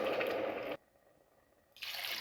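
Water poured from a tap or vessel into a pot for cooking rice, two short bursts of steady splashing filling sound with a quiet pause between, close and fairly clear.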